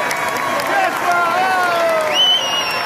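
A crowd cheers beside Rome's Trevi Fountain as police arrest climate protesters who blackened its water, producing a steady, dense roar with rising whistles over it.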